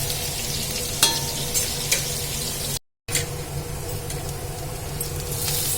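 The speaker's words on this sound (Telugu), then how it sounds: "ఆనియన్ అయితే మంచిగా ఫ్రై కావాలన్నమాట" Onions and potatoes frying in a pan for aloo veg pulao, a steady close sizzle with a few sharp stirring clicks, briefly cut off to silence midway before resuming.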